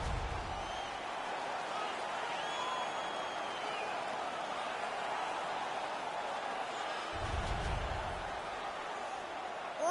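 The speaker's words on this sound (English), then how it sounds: "The whole crowd is ecstatic." Steady, broad roar of a video game arena crowd cheering through a PS4 hockey match, continuous and fairly loud across the whole stretch, with a couple of low thumps and faint commentary murmurs underneath.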